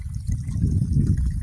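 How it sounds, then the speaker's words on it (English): Water runs steadily from an outdoor tap on a hot day, a low, continuous gushing and trickling that stays even and close throughout. "I turn the water on down there and I let it run for a few hours"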